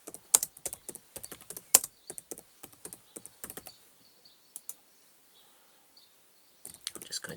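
Quick bursts of typing on a computer keyboard as a pupil writes in a school blog text box, close and fairly quiet, with a short pause partway through before the clicking resumes.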